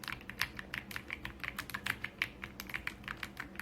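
Rapid, steady typing on an AULA F99 wireless mechanical keyboard, each crisp keystroke click distinct and close in a quick irregular rhythm, heard alone.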